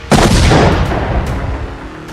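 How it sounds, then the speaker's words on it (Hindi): A single loud, deep explosion from an airstrike on a village in southern Lebanon booms at once and rumbles on, decaying slowly with a rolling low roar; no voices. "दक्षिणी लेबनान में पहला धमाका"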